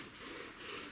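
A wooden bow drill spindle rubs and grinds steadily against a wooden fireboard, a continuous dry scraping hiss at a gentle, even pace, close and moderately quiet.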